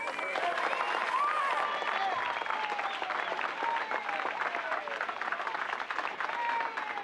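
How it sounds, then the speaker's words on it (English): An audience claps and cheers for Melvin Van Peebles at a Do The Right Thing event, a continuous crowd noise with voices shouting over the applause throughout. "put together a big round of applause for Melvin Van"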